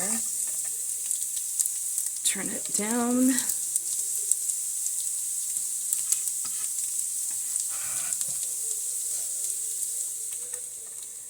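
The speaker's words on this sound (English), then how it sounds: "let's see if we can get a little sizzle going here" Penne pasta ingredients sizzle steadily in a hot pot, a constant crackling hiss with occasional stirring scrapes, and a voice briefly speaks over it.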